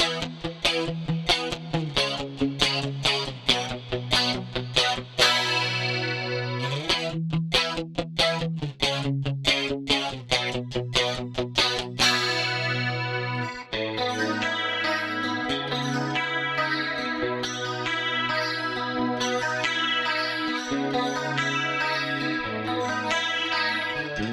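Electric guitar through a Line 6 Helix preset for 80s rock tones, clean tone with reverb: rhythmic strummed chords and picked notes ringing into a lush tail, played alone and loud, with the texture shifting partway through.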